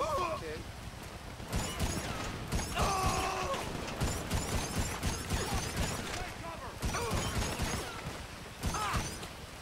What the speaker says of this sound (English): I like to use the assault shotgun for all these close encounter battles